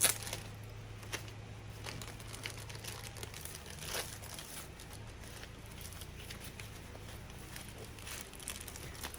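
Plastic packaging of a diamond painting kit crinkles and rustles as it is opened, with intermittent crackles and taps close by over a quiet background.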